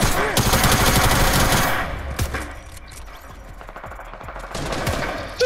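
Rapid automatic gunfire from a fast-firing gun in a video game, a loud dense burst up front, then scattered shots and clatter, and another burst near the end.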